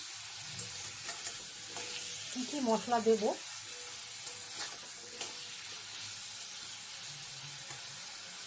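Oil sizzles steadily as potatoes fry in a pan, with the clatter of stirring, and a person speaks briefly over the cooking.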